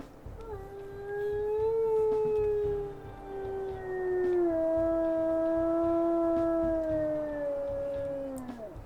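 A higher-pitched secondary howl from a female wolf in the video game WolfQuest: two long sustained howls in succession, each holding a slowly sliding tone before tapering off, clear and alone.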